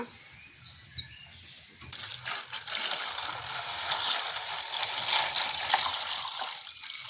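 Cassava roots being washed in water outdoors in a village, a quiet start with faint birdsong, then a sudden, continuous splashing gush that stays loud to the end.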